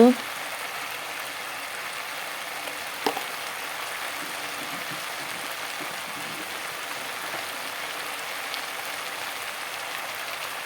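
Food frying in a pan with salt and turmeric gives a soft, even sizzling hiss that runs throughout, broken once by a faint knock.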